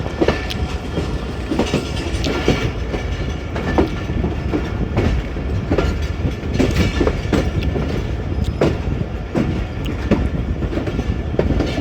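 Passenger train rolling on the rails just after leaving Wazirabad junction in Pakistan, with a steady loud rumble and repeated clickety-clack of wheels over rail joints.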